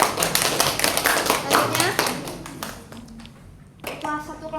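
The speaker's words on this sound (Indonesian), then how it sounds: "Tepuk tangan." A class claps for a classmate during a microteaching lesson, a burst of sharp, quick hand claps for about three seconds that fades out before a teacher's voice speaks.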